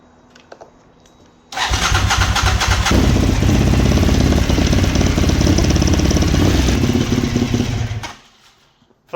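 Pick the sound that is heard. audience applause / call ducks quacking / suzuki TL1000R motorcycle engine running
suzuki TL1000R motorcycle engine running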